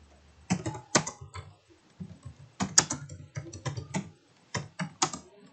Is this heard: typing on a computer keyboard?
yes